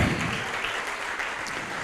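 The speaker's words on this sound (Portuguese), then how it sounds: "Vamos aplaudir mais" A studio audience at a televised religious program applauds in a brief, continuous burst of dense clapping, fairly loud and without a break.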